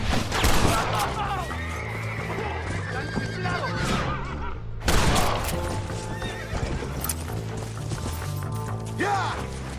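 Horses whinnying and galloping in the video game Red Dead Redemption, repeated loud neighs over busy hoofbeats and crashing action, with shouting voices mixed in throughout.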